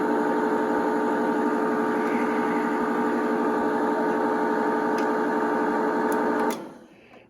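A 1960s 8mm film projector motor runs steadily with a close, even mechanical hum and whir, then winds down and stops near the end.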